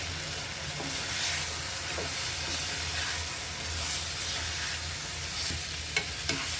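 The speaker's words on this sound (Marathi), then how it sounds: "आता याच्यामध्ये मी हे प्रॉन्स घालून देणार आहे." Prawns stirred and frying in a spicy kolambi masala in a pan, giving a steady loud sizzle and hiss with occasional scraping stirs, close up and with no talking.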